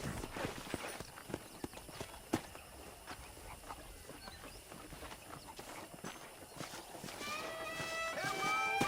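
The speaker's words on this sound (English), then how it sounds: "let's see if you can still ride a horse." Horse hooves clip-clopping in a rhythmic trot across a ranch in the video game Red Dead Redemption, moderately close under soft ambient game sounds, with a whistling musical tone rising near the end.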